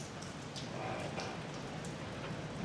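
Steady rain falls in the evening over a harbour town, a dense continuous hiss with scattered close drips and patters, even and unbroken throughout with no voices.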